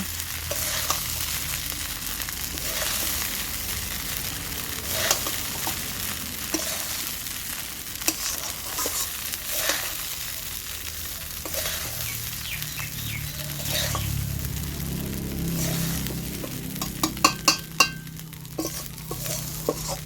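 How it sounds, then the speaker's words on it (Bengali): Flattened rice pulao being gently stirred and fried in a pan, with steady close sizzling and scraping of the spatula throughout, a few sharper clinks near the end, and no talking. "এবার সব কিছু আমি হালকা হাতে নেড়ে চেড়ে নেব।"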